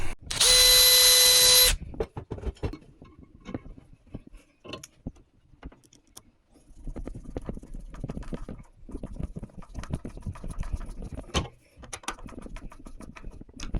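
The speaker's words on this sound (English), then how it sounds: "you might as well pre-drill it with a little bit" A power drill whines in a short high burst pre-drilling wood for a closet barn door, followed by clattering, scraping workshop noises and handling sounds nearby.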